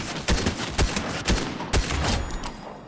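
Gunshots in the Fortnite video game, four or five sharp cracks spaced irregularly across a few seconds over a low background rumble.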